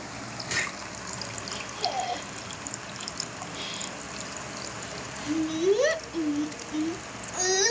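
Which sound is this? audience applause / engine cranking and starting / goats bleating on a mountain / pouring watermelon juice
pouring watermelon juice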